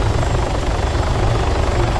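Helicopter rotor and engine drone in the Arma 3 video game, a steady loud broadband roar with low thumping that holds continuously close by throughout, with no voices.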